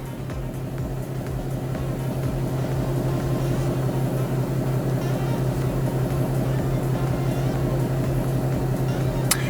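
Shelby GT350 with its exhaust resonator deleted idling in sport mode, hood open, producing a steady, throbbing low rumble that holds constant throughout with no voices.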